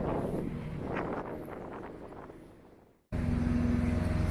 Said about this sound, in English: Boy, it's windy.